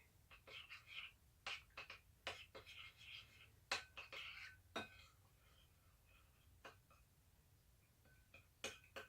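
A spoon mixes butter and peanut butter in a bowl, giving quiet, irregular clinks and scrapes against the dish, with faint background hum.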